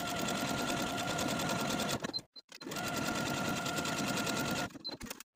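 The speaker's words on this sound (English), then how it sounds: "now I'm ready to sew my buttonholes" A sewing machine stitches buttonholes on a dress placket in two steady, rapid runs, each about two seconds long, separated by a short pause with faint clicks, close and moderately quiet.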